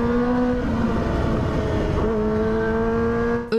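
Motorcycles speed along the Bursa-İzmir highway at up to 300 km/h. A loud, sustained high-revving engine whine holds steady with slight pitch shifts, then drops off abruptly at the end.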